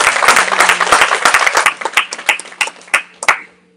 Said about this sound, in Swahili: Tuwapigie makofi wataalamu wote.